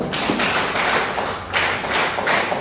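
Audience applause follows a call for a big round of clapping at a DXN business talk in Uttar Pradesh, a dense steady wash of claps lasting a few seconds with slight surges and no talk over it.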